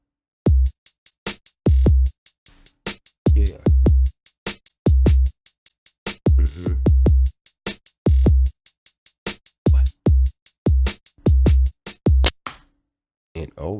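A programmed drum beat built in FL Studio plays a punchy kick, snare and rapid hi-hat pattern in a steady rhythm, with a short spoken word near the end.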